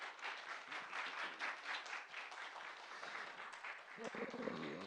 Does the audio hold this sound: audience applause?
yes